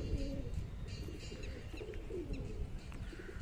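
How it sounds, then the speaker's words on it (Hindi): Pigeons coo softly and repeatedly nearby, their low throaty calls overlapping amid faint chirps and light background rustle. "ये कबूतरी है जो लाल कबूतर गुटक रहा है जिसपे"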